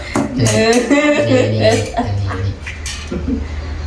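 Spoons and chopsticks clink lightly against dishes at a Thai instant-noodle meal on a rainy day, a few scattered metallic taps sitting under steady conversation from the people eating.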